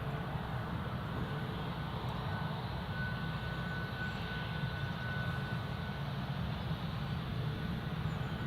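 A Boeing 737 Max jet taxis at Newcastle International Airport, its engines giving a steady, broad roar from some distance that stays constant throughout without voices.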